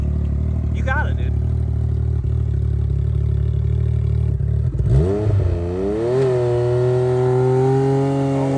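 A nitrous-powered Can-Am X3 engine idles with a low drone, then revs up hard in rising and falling sweeps before settling into a higher steady pitch, with people talking nearby.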